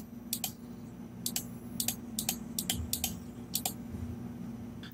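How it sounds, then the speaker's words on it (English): Computer mouse button clicked repeatedly while random colors are generated, a string of about a dozen sharp, light clicks in uneven rhythm, close by, over a faint steady hum with no talking. "All I have to do now to generate a new color is click the mouse button."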